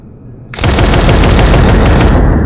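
Twin missile weapon firing in the Space Engineers video game: after a brief quiet moment, a loud, dense burst of rapid launches and blasts starts and roars on continuously, with no talking over it.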